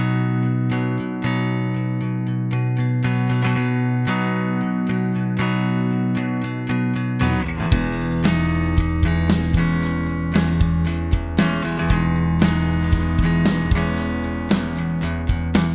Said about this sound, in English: this method is extremely effective at creating a stereo guitar sound from a single mono guitar track